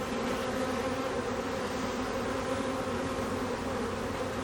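Honey bees hum in a continuous dense drone from an opened hive whose honey stores are nearly consumed, steady and loud at close range throughout.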